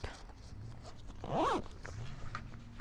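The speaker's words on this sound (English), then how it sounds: "At this point, I would probably halfway zip up." A single quick zipper pull rasps up close, partway along a Gregory Sula 16L hiking backpack, amid quiet background rustling.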